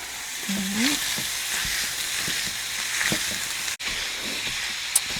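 Ground meat sizzles in a pan for stuffed-shell sauce, a steady close hiss with a few scraping strokes as it is broken up, plus a brief tonal whine and a sharp click near the end.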